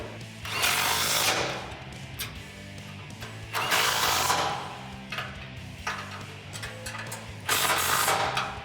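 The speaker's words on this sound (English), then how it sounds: "tighten these bolts down with your 18 socket and wrench" A socket wrench with an 18 socket tightens bolts on a Body Armor ECO-Series front bumper for a 2013-2018 RAM 1500, making loud repeated ratcheting bursts close by, each a second or so long, separated by short pauses.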